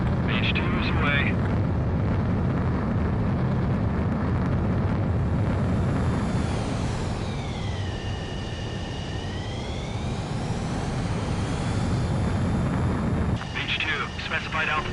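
Jet fighter launching and climbing in the Ace Combat video game, a loud continuous jet roar with a rising and falling engine whine, mixed with in-game radio speech.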